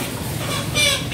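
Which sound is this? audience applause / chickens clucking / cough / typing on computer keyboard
chickens clucking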